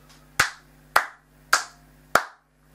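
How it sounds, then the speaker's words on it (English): Four single hand claps ring out one by one, evenly spaced about half a second apart, each sharp and close with a short decaying tail, and no talk. "I applaud you."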